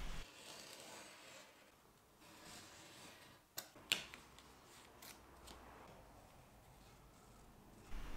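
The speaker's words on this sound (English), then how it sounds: "And then I can cut that with a sharp knife." Thin wood veneer patch being cut with a sharp knife, a few quiet scrapes and short crisp slicing clicks close up, faint and irregular against low room hiss with no talk.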